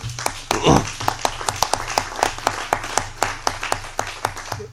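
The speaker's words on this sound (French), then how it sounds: "que je vous demanderai tous d'applaudir" Conference audience at a talk on hydrogen mobility clapping sparsely, a thin scatter of distinct hand claps in an irregular rhythm over a low hum, with a brief voice near the start.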